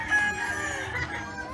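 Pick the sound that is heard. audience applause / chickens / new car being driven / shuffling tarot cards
chickens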